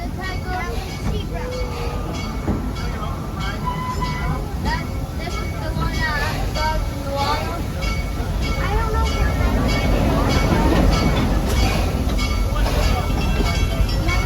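The Serengeti Railway train at Busch Gardens Tampa rolls along with a steady rumble and clatter while people talk aboard throughout.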